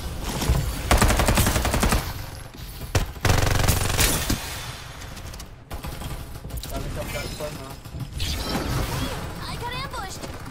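Rapid automatic gunfire from the Farlight 84 shooter game, several bursts and single shots in quick succession under constant in-game noise, with voices talking over parts of it.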